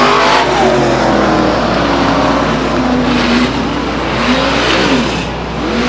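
Race cars roar around the oval at Stockton 99 Speedway as the pack bumps and jostles. The engine drone is loud and continuous, with rising and falling revs as the cars pass close by.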